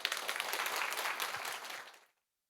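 An audience at a Korean community center anniversary lecture claps loudly and densely for about two seconds, then the clapping stops abruptly into silence.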